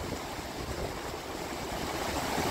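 Water pours steadily over the Hinckley Reservation spillway on a cold, windy day, a continuous broadband rush close to the microphone with some wind noise mixed in and no talking.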